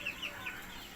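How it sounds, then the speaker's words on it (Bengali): Desi hens kept on a home balcony clucking softly in short, quiet bursts over a faint background hiss, with no voices. "এগুলো সব আমার রানিং মুরগি।"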